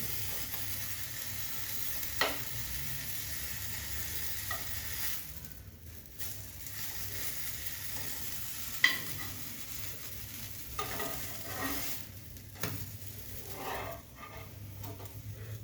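Blueberry pancakes frying in a lightly oiled pan give off a steady, soft sizzle throughout, with occasional small pops and scrapes from a utensil near the pan.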